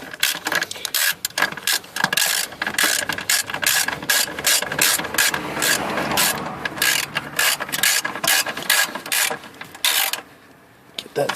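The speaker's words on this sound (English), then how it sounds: "then you can tighten it up with the 13mm socket and ratchet." A 13mm socket and ratchet tightening a car battery terminal on a 2006-2013 Chevy Impala: rapid, steady clicking of the ratchet pawl in quick bursts, close up, with a short pause near the end.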